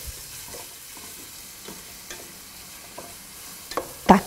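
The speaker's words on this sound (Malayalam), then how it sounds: "നമ്മൾ കട്ട് ചെയ്ത് വെച്ചിരിക്കുന്ന തക്കാളി ഇട്ട് വഴറ്റുക" Chopped tomatoes with garam masala sautéing in a pan for mutton kuruma: quiet, low sizzle with a few soft stirring scrapes, then a sharper louder knock of the spoon at the end, no voices.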